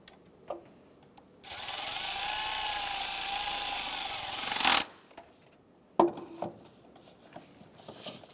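Ratchet snugging down the water pump bolts on a Chevrolet Impala, 2006-2013, a sustained rapid clicking ratchet run of about three seconds, followed by a few scattered metallic knocks and taps nearby.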